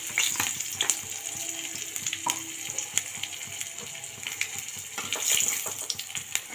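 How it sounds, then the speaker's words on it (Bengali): Green chili and black cumin spluttering in hot oil left from frying fish for a Bengali fish curry, a soft continuous sizzle with scattered pops and crackles, fairly quiet. "এই মাছ ভাজাটা তুলে তেলের মধ্যেই আমি একটা লঙ্কা ফোড়ন দিচ্ছি, কাঁচা লঙ্কা দিচ্ছি, একটু কালো জিরে"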